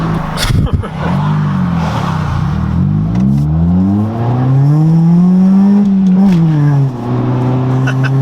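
A stock Honda EG hatchback accelerates hard, its engine note climbing steadily through the revs, dipping at a gear change, then rising again, loud and close with people talking over it.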